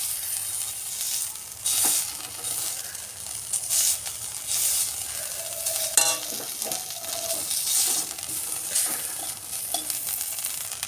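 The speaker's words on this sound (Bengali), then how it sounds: "শীতলগুলোকে ভালো করে ভেজে নেব একটুখানি।" Dried fish (shutki) frying in a wok on a gas stove: a soft sizzle under repeated scraping stirs that come in loud, irregular strokes, heard close with no speech.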